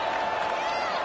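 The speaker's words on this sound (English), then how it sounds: "this crowd is buzzing after that last score" A steady, roaring stadium crowd buzzes at a high school championship football game in a video game, sustained and broad, under play-by-play commentary.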